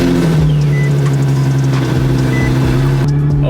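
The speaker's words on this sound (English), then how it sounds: "Holy cow, this car is loud." A loud car with a VQ35 engine rumbles close by, running with a deep, steady drone. A faint beep sounds over the engine.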